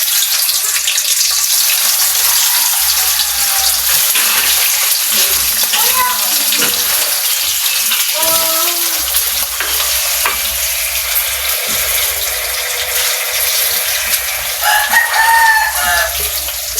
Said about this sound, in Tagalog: Ito ang hinilis sa ating spam ay ating pong ipiprito.